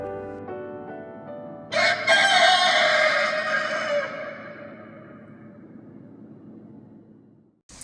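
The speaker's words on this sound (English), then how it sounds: "the rooster stood up and crowed" A rooster along the Camino Francés in Spain lets out one loud, drawn-out crow, close by, that trails off slowly after a short lead-in.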